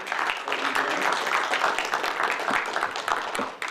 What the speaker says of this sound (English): let's offer our speaker a nice round of applause for the presentation